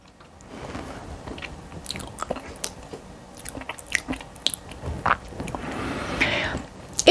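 Close crunchy biting and wet chewing while a spoonful of Meyer peanut butter is eaten, with repeated mouth clicks and smacks in an irregular rhythm, with no talking.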